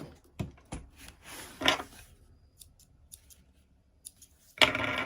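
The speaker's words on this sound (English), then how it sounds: "I trimmed a 1/2 inch off one of the long pocket pieces." Scissors trimming a long fabric pocket piece for a crossbody bag, several crisp snips and clicks close up at uneven intervals, with a final louder cut at the end and no talking.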